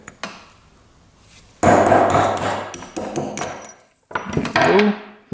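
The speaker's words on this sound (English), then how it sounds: "May as well pound out that emulsion tube" A hammer pounds a motorcycle carburetor's emulsion tube loose, sharp metallic blows landing in an irregular burst of several close, loud strikes, then a pause and a few more taps.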